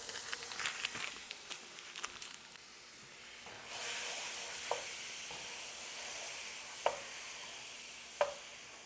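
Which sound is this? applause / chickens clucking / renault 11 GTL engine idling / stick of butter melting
stick of butter melting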